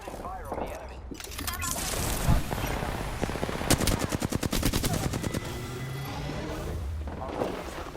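Rapid automatic gunfire from an Apex Legends match, loud bursts of repeated shots over a busy game soundscape, with a dense rattling volley in the middle and scattered shots before and after.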